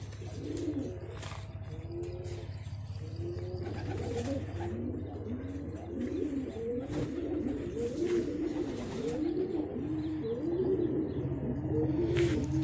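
Several pigeons in a coop coo in steady, rolling overlapping calls throughout, close by, over a constant low hum, with occasional light chirps and flutters.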